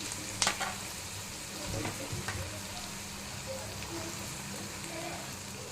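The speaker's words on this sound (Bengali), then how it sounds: "আলুটা ম্যাশ করে রেখেছি, আলুটা দিয়ে দিচ্ছি" Mashed potato goes into a frying pan with green chilli and ginger and is stirred, giving a soft continuous sizzle with a few scraping knocks from the spoon, close and fairly quiet.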